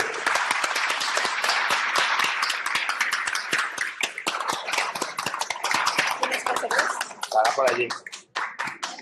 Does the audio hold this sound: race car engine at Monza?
no